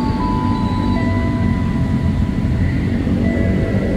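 Steady low rumble and hum of an electric commuter train at a station, with whining motor tones rising slightly, close and continuous without pauses.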